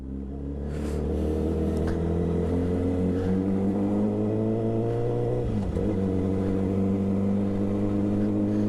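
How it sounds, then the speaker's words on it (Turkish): A car pulls away slowly from a stop on an empty road, its engine a steady close drone that rises gently in pitch as it gains speed. "Yol boş ve yavaşça gaz veriyoruz."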